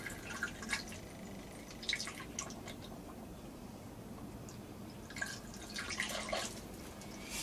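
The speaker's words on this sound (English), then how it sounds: "It's just a case of topping it up with water." Water poured from above into a bottle already packed with sand, giving soft trickling and dripping splashes in two bursts with a quieter stretch between.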